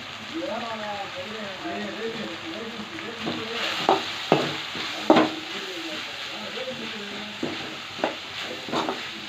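Drumstick curry is stirred in a pan with a sizzling bed of frying underneath, spoon scrapes and clinks against the pan standing out now and then, and a voice talks over the cooking.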